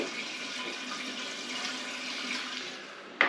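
Water poured back into a biOrb aquarium during a 10-litre water change, a steady rushing and splashing pour heard close up, ending with a brief sharp knock, with no one talking.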